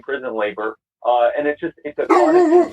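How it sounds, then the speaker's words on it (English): A pet dog barks and yips in a room during a conversation, its high-pitched calls overlapping the speech, with one sharper yelp near the end. "Yeah, that's my dog"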